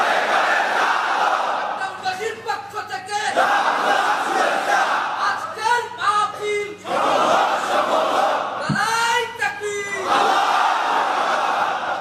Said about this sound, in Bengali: তাকবীর পড়ুন, আল্লাহু আকবার।